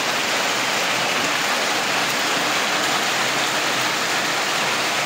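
Steady rain falls in a broad, even hiss throughout, close and fairly loud, with no pauses or voices.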